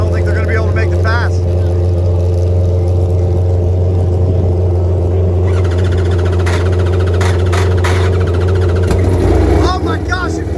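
A 600 hp nitrous drag bike engine runs at a cold-weather drag race with a loud, low, steady rumble and revving, while voices and crowd noise carry over it throughout.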